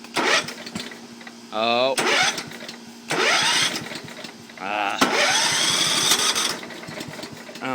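A push lawn mower engine cold-starts on choke, with several pull-cord yanks, brief sputtering catches and a rough, loud running burst, while someone talks over it close by.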